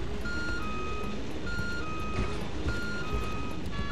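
Truck reversing alarm in the Watch Dogs Legion video game, a steady train of evenly spaced electronic beeps repeating over a dense bed of city traffic and engine rumble.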